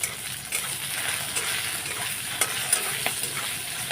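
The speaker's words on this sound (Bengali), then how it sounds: "এখন আমি নেড়ে চেড়ে নেব" Steady sizzling of okra frying in an iron wok, with occasional clinks and scrapes of a spatula stirring against the metal.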